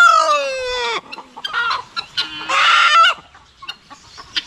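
A rooster on a rural Philippine farm crows and then clucks, close and loud, with a long opening call followed by short bursts of clucking and a few scattered sharper squawks.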